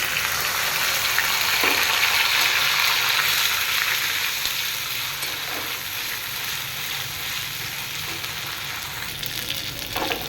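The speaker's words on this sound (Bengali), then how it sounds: "এবার এর মধ্যে আমি আদা বাটা আর মৌরি বাটা দিয়ে দেবো" Ginger paste and fennel paste frying with spices in a pan for a biuli (urad) dal, giving a steady, loud, close sizzle with occasional stirring scrapes throughout.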